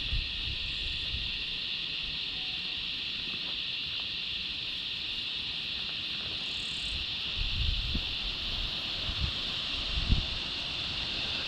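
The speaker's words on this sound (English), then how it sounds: "Face this way, you'll hear the cicadas more." Cicadas chirp in the bush at Point Glorious Lookout around dusk, a dense continuous high-pitched drone that holds steady throughout, with faint rustling and wind beneath.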